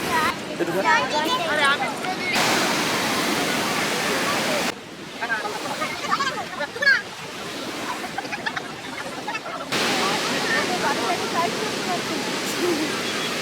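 Surf rolls in at Puri Golden Beach as a broad, steady wash of breaking waves, broken by abrupt shifts in level, with people's voices over it.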